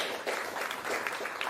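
A crowd at a political launch event claps in welcome, a brief burst of broad, continuous applause from many hands with no voices over it.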